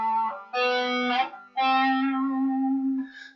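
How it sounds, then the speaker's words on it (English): Electric guitar played through a heavily distorted effects setup, sustaining loud harmonically rich notes in three phrases separated by brief gaps, with no talking. "I'm going to actually take it off this distortion thing just because it's too much"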